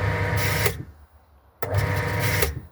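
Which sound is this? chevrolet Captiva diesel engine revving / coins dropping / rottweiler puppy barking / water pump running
water pump running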